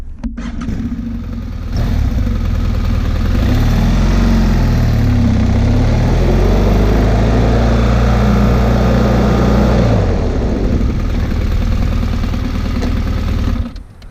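A motorcycle accelerates to about 20 mph, its engine note rising and holding loud and steady, then rolls off the throttle and brakes hard to a stop, the engine falling back to a low idle.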